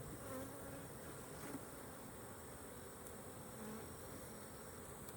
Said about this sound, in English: carpenter bee or a bumblebee or something